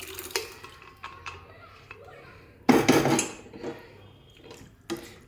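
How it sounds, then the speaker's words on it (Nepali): Cooked chana dal tipped from a vessel into spiced masala in a cooking pot: a big clattering pour of thick lentils with metal scraping around the 3-second mark, a few lighter clinks of utensils against the pot before and after. "यो दाल यसमा खनाइदिनुपर्छ"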